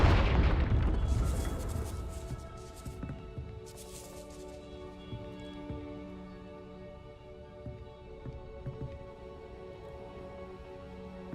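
Fire spell exploding in the Hogwarts Legacy video game: a deep boom opens, followed by crackling bursts and a long rumbling decay under soft background game music.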